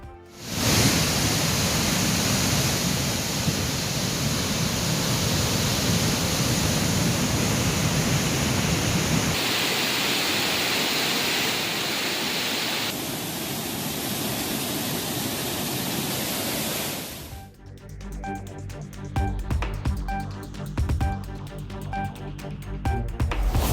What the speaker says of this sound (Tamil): தேனி மாவட்டம் சுருளி அருவியில் ஒன்பதாவது நாளாக ஆர்ப்பரித்து கொட்டும் வெள்ள நீர்